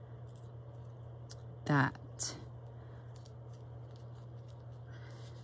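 Scissors snip once through a paper envelope while a shabby chic cover is being crafted, giving a short, close crisp cut followed by a lighter second snip over a faint steady hum, with a brief spoken word.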